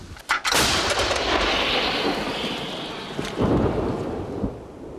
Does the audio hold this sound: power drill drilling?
no